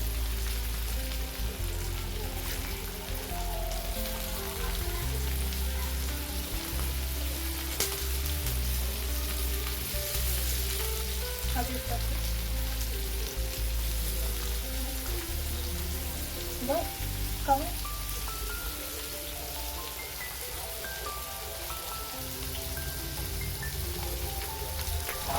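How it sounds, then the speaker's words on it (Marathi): Fish frying in a pan, a continuous dense sizzle and crackle of hot oil that holds steady throughout, close and moderately loud, with faint occasional clatter. "मच्छी फ्राय करायला टाकली आहे. मच्छी फ्राय होते."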